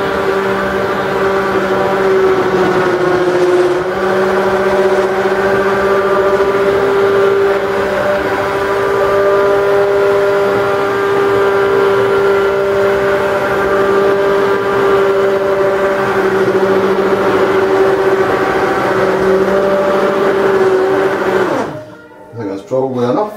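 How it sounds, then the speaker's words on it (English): A hand blender purees mushroom soup in a long, loud, steady whir with a faint wobble in pitch before cutting off near the end, followed by a few brief knocks. "back in with the blender"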